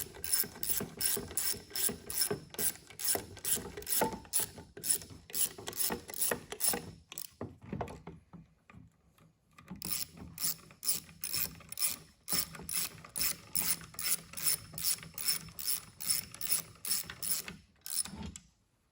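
A hand ratchet is turned during assembly of a Delco Remy 10SI/12SI alternator. Rapid rhythmic clicking bursts are heard close up, with a brief pause midway before the clicking resumes.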